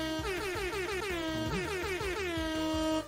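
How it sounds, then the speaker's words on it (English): A blaring air horn sound effect used as a deal alert, sounding as a loud, sustained series of wavering, pitch-bending blasts that runs for about three seconds. "that's the deal alert air horn"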